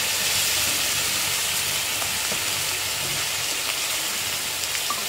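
Chili paste ground with coriander, cumin and bay leaf fries in a hot pan for a Bengali chitol fish muitha, giving a steady, close broadband sizzle and hiss with no pauses and no voices.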